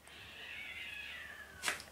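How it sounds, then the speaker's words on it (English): Stray cats outdoors let out a long, drawn, whining meow that slowly falls in pitch, followed by a short sharp burst of noise near the end, fairly faint and distant. "The cats are going crazy."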